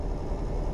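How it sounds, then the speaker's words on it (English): Truck exhaust in Euro Truck Simulator 2 running an exhaust sound mod, a steady low engine drone that holds even and continuous throughout, with no talk over it. "If you can hear the old exhaust pumping away"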